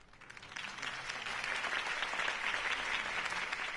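A crowd applauds after a campaign speech by Harvey Dent in a Batman video game, the clapping swelling up from quiet and holding as a steady, moderately distant roar of many hands.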